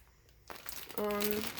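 A clear plastic bag holding cakes of yarn crinkles in a brief, close burst of rustling, with a short tonal squeak riding on top near the end.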